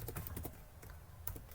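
Quick keystrokes clatter on a computer keyboard, a short burst of soft, irregular taps heard close and alone.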